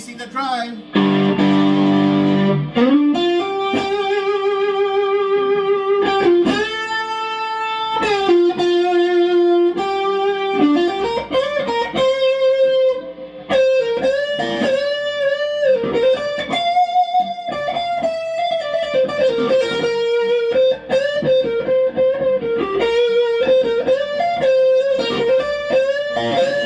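An electric guitar runs through a TWA Source Code overdrive pedal with the drive turned up, playing sustained distorted chords and melodic lines that bend and slide, loud and continuous throughout.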